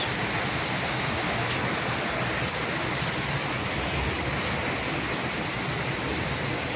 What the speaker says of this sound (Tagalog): Grabe ang ulan. Palakas ang palakas.